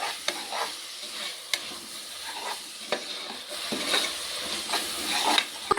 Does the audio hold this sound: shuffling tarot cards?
no